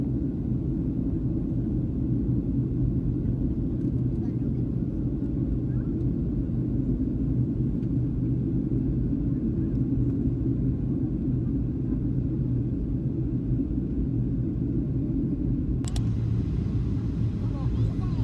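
A steady, loud low rumble fills an airplane cabin in flight as the aircraft climbs into clouds, droning unchanged throughout with a brief faint click near the end.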